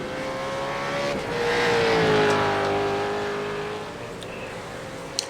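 V8 Veterans race cars at a Kumho Tyres round roar past on a circuit, a loud engine note rising and sweeping down in pitch as a car passes close, then fading with a brief click near the end.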